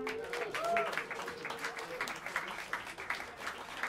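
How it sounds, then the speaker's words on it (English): Applause for sponsors from the crowd at a live jazz club show, moderate and fairly distant clapping that continues steadily, with faint voices mixed in. "Give them a round of applause, folks."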